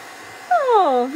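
Hair dryer drying craft medium on a metal and rust frame makeover: a brief burst of whirring airflow starting midway through, with a short high whine sweeping downward.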